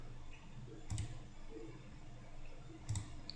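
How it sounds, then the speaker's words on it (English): A computer mouse gives two faint, separate clicks about two seconds apart, close by in a quiet room with a low background hum. "I'm going to click on the zip folder."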